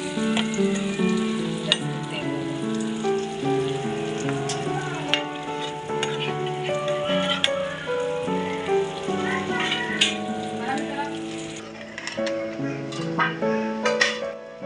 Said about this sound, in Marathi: त्यामध्ये कट केलेले अंडे टाका आणि अंड्याला 3 ते 4 मिनिटे फ्राय करून घ्या।